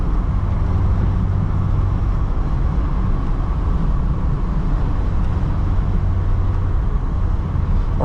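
A 2010 LADA 2107 with a 1.6 engine and manual gearbox drives along with a steady, loud in-cabin engine hum and road rumble, holding a low drone throughout with no talking.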